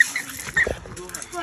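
A French bulldog gives snorting, piggish grunts and a brief whimper, close and moderately loud, mixed with people talking in the background.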